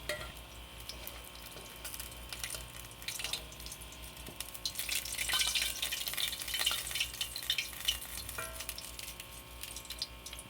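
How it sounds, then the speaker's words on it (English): Fish fries in very hot oil in a pan for a traditional fisherman-style fry, with a continuous bright sizzle and crackle that grows busier and louder midway. "Just make sure the oil is very hot and the skin will not stick to the bottom of the pan."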